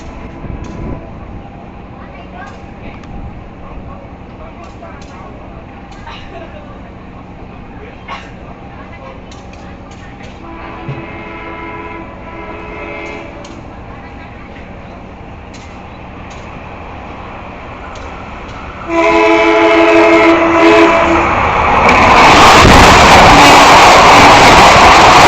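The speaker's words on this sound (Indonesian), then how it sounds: "kereta api Berantas akan segera melintas langsung di stasiun Sumber Gempol" The Berantas train runs straight through Sumber Gempol station without stopping, beginning as a faint distant rumble, then swelling into a loud roar of horn tones and rushing wheels and wagons close by at the end.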